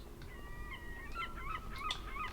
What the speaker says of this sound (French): Pourquoi il y a des bruits d'oiseaux alors qu'on n'est même pas dans la vraie mer?